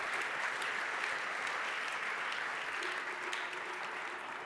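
Audience applause at an energy award ceremony fills the space, a steady dense wash of many hands clapping throughout, loud and continuous with a slight fade near the end.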